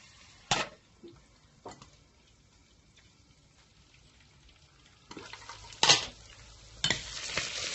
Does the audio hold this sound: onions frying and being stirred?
yes